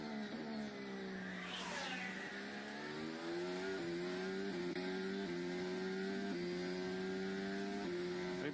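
A Formula 1 car at the Baku circuit during qualifying passes with a rising, shrill engine note, then holds a high, strained scream through repeated upshifts, loud and sustained.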